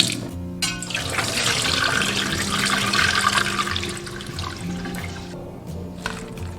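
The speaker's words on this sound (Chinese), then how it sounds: "如果用流水清洗的话，最好是用手挡一下，不要让它直接接触生蚝" Tap water runs steadily over raw oysters being washed, a close continuous splashing and gushing stream that fills the whole stretch, with slight shifts in tone as hands move under the flow.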